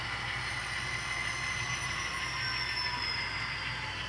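A model train with a box car and two hoppers rolls along a layout track, giving a steady faint rumble with thin, sustained wheel squeals above it and no talk.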